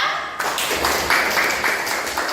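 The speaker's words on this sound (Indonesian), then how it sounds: "Tepuk tangan dulu untuk kelompok 2" A classroom of third-grade primary pupils claps for a presenting group, a dense burst of applause that starts abruptly and holds steady and fairly loud for about two seconds.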